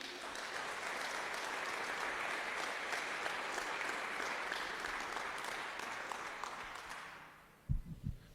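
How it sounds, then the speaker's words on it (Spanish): Congregation applauding during a church sermon, a dense sustained wash of many hands clapping for about seven seconds before it fades out, followed by a few louder close thumps at the end. "Démosle un aplauso a Jesucristo"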